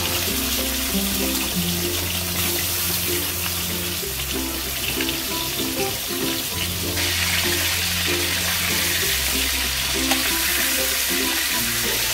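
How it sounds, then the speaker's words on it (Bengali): Chicken pieces frying in oil for a white shahi chicken korma give a loud, steady sizzle that holds for the whole stretch, with a faint patterned tonal layer, likely background music, underneath and no talk. "এবার আমি এই তেলের মধ্যে একটু চিকেনটাকে ফ্রাই করে নেব।"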